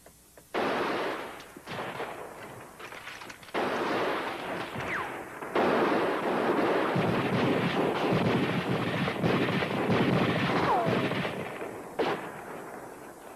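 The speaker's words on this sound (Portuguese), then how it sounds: "atiramos, mas precisamos continuar atirando" Repeated gunshots and rifle fire in a dubbed western film shootout, a loud continuous barrage of cracks and booms with echoing bursts, and no talk over it.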